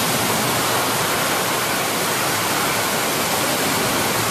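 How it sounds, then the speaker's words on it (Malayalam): Steady rain pouring down in the evening at a temple during a festival, a dense even hiss that fills the whole stretch at constant level with no voices. "മഴ പെയ്യുന്നു."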